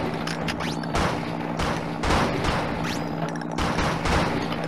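Shotgun blasts boom in Pig Tanks: Blood and Bacon, several heavy shots spaced about a second apart over a steady engine drone, loud and close.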